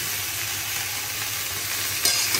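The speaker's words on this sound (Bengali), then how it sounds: "কুমড়োটা একটু ভাজা হবে, বেগুনটা একটু ভাজা হবে।" Pumpkin and eggplant frying in oil for a vegetarian dish, a continuous dense sizzle with light stirring scrapes and a sharp clink near the end.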